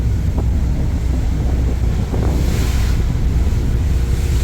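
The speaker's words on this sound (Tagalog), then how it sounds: "Pusok ang hangin." Strong wind buffets the microphone while heavy waves surge and crash nearby in rough seas off Liloan, a loud, continuous roar with no pauses.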